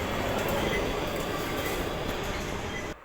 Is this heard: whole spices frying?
no